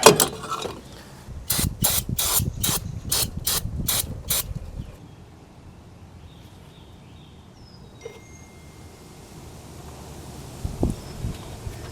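A screwdriver pries a spring off a metal part on a workbench, making a quick series of about eight sharp clicking snaps, followed by quieter shuffling and a couple of soft knocks.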